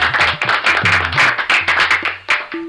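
Audience applause at a Ram Katha gathering in Mukundpur, Delhi, a burst of many hands clapping together, loud and close, with faint tonal background sounds underneath before it tapers off.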